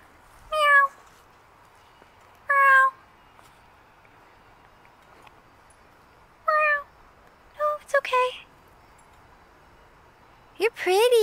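A cat meows several times with short, rising and falling cries separated by pauses, close by in a quiet room.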